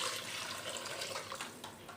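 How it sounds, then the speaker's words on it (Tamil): Water poured into a cooking pot for tomato rice, a steady, continuous splashing stream heard alone, with no talk. "4 டம்ளர் தண்ணி இதில் மிக்ஸ் பண்ணிப்போம்."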